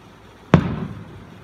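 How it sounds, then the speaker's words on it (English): A single firework from a distant summer hill show bursts once with a sharp boom, then rumbles and fades over about a second, heard alone outdoors. "Fireworks show of Summer Hill."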